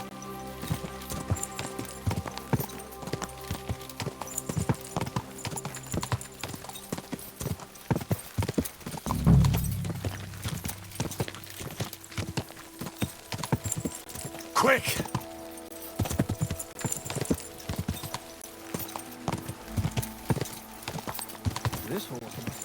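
Hooves clip-clop steadily as a horse moves in Kingdom Come: Deliverance II, with a rhythmic, close beat and a brief whinny among clattering game sounds, while a man occasionally calls out over it.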